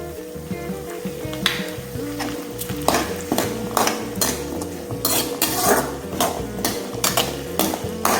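Onions with fennel, cinnamon, cloves and cardamom sautéing in oil, a close sizzle punctuated by repeated clinks and scrapes of a utensil against the pan.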